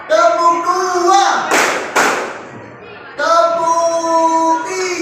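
A standing group of teachers at a coaching session clap together in two sharp, loud bursts, with a voice speaking before and after.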